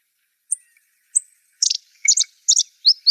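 A grassland sparrow sings in southeast Arizona desert grassland: a few thin, high introductory notes, then quick bouncy doubled chirps that speed up, clear and alone against silence.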